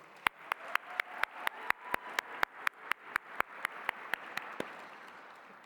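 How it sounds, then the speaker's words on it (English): At a Christmas Tree Ball gala, sharp, evenly spaced hand claps ring out over a softer wash of audience applause, holding steady for several seconds before thinning out. "Let's give another round of applause to our wonderful MCs, Walida and Chastity."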